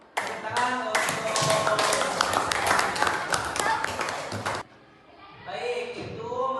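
Classroom applause during a micro-teaching lesson: a burst of clapping with sharp slaps runs for about four and a half seconds, then cuts off, and a voice starts talking.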